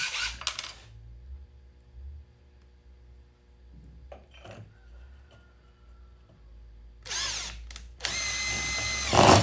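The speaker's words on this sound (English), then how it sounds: "And I even got the drill bit to do it." A power drill whirs in a few short bursts separated by quiet stretches of small clicks and handling sounds, loudest at the end.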